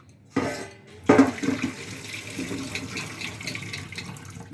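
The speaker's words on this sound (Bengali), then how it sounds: "এই জলটা গেলে আমি ফেলে দেবো" Water from boiled young green jackfruit drains out into a sink, a sudden splash and steady pour with metal pan clatter, close and fairly loud, no talk.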